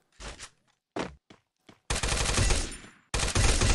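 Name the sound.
gunfire in a shooting video game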